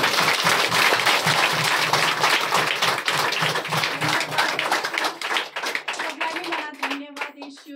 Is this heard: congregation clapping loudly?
yes